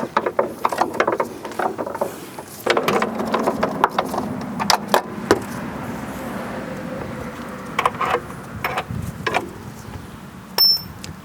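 Ratcheting wrench working on suspension bolts while replacing the upper control arm of a 2003-2007 Honda Accord: bursts of rapid clicking ratchet pawl sounds, close and clear, separated by brief pauses and clanks.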